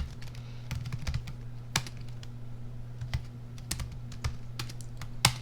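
Irregular, light clacking of keys on a computer keyboard, close by, over a steady low electrical hum, with no voices.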